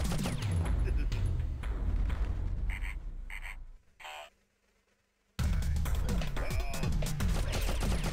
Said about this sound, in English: The Slig's gunfire killed me